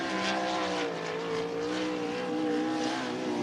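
Race car number 22L, which had some motor trouble, laps Cottage Grove Speedway through turns three and four with a steady, sustained engine drone whose pitch wavers slightly as it holds throttle, heard alone at moderate distance.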